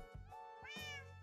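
A cat in Minecraft gives a few soft, quiet meows in quick succession.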